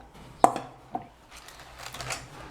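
Crispy, dry fried snack is snapped apart by hand: two sharp, close cracks half a second apart, then a softer crackling crumble. No voices.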